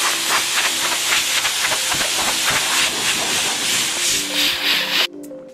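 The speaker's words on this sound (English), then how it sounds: "I wanna blow off this hull to open up the pores" Compressed air blasts across the hull of a 1950s wooden hydroplane under restoration, a loud, continuous close hiss that surges and wavers for about five seconds, then cuts off abruptly.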